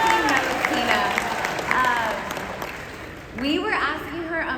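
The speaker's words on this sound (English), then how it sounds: "Can we please give a round of applause for Tina?" Audience applause for a tour guide at a convention, clapping and crowd noise mixed with voices and cheering, with people talking over it and a fresh burst of voices near the end.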